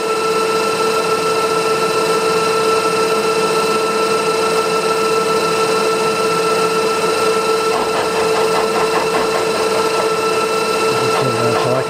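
Milling machine cutting a spline with an involute gear cutter, taking tiny shavings a few degrees at a time. It gives a loud, steady mechanical whine with a constant tonal hum that runs throughout without speech.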